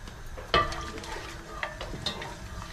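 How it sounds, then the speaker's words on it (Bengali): Two black cardamom pods frying in a pan make a low, steady sizzle, with a sharp clink and a few light stirring taps over it. "ব্ল্যাক কার্ডামন দিয়ে দেবো 2টা দিয়ে দিলাম। এখন এটাকে একটু ফ্রাই করে দিব।"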